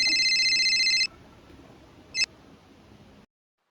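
Phone ringing during a job interview: a loud electronic ring tone for about a second, a short second chirp soon after, then quiet room tone.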